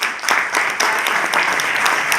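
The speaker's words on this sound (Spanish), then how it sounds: "Demos un aplauso al ponente" An audience at a lecture applauds the speaker, a dense, continuous patter of many hands clapping at close range for a couple of seconds.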